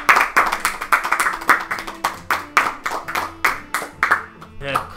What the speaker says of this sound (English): Let's get one last round of applause for Hayden one more time